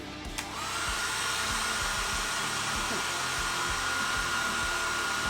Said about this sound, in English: Grab the hairdryer, sort that out.